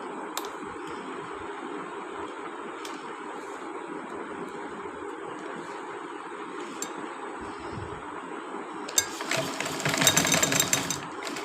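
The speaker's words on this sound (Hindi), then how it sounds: "इस तरह से इलास्टिक को मैं एक दूसरे के ऊपर रख के इस तरह से सिलाइयाँ लगा लूँगी।" Sewing machine stitching across two overlapped layers of trouser elastic, a steady mechanical whirr running throughout that swells louder near the end.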